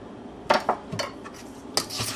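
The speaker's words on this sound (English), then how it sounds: "fold it in fairly gently" An egg being folded gently into a mixture in a bowl, with a utensil scraping and clinking against the bowl in a few short strokes, close by and without talk.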